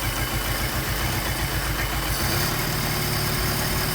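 Car engine running at a steady fast idle while it warms up before tuning its Solex carburetor, a continuous close rumble with an even low pulsing throb and no voices.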